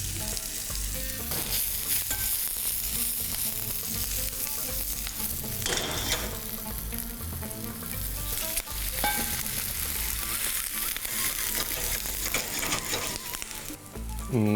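Chilies, onion, coriander stems and dried fenugreek leaves sizzling in hot ghee for Old Delhi Mughlai chicken, a dense steady frying hiss with stirring scrapes running throughout, loud and close.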